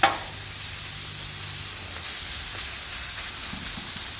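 Chicken fajitas sizzle steadily on a hot Blackstone griddle, a dense, even hiss that carries on close and unbroken, with a brief clank at the start and faint scraping near the end.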